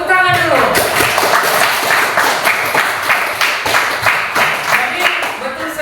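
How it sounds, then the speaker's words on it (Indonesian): An audience breaks into applause in a classroom-style gathering, a dense, steady run of rhythmic claps lasting several seconds, with a brief voice at the start. "Tepuk tangan dulu."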